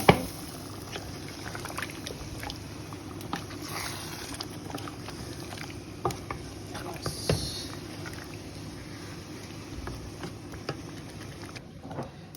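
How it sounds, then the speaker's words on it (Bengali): A small amount of water is poured into a pot while chicken pulao cooks, giving a faint, steady liquid rush with soft bubbling and a few light clinks, close by and without talk. "এখন এখানে একটু পানি দিয়ে দিচ্ছি।"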